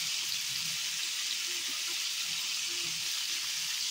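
Vegetables and sweet pumpkin fry with fish heads in a pan, giving a steady, bright, close sizzle that runs on without a break and without voices.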